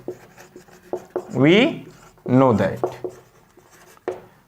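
Writing on a board during a maths lesson, made of short scratchy strokes and a few longer squeaky drawn lines, close and fairly clear, with no one talking over them.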